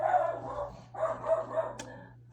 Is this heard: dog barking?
yes